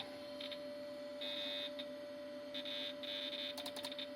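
The internal PC beeper of a 2000 AcerPower S Series desktop emits short high electronic beeps in irregular bursts as the mouse moves, over a constant steady tone and faint machine hum.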